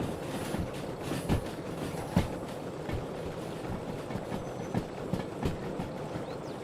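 A freight train with wagons rolls along the track in the railway simulator game Derail Valley, giving a soft continuous rumble broken by irregular clickety-clack wheel knocks every second or so.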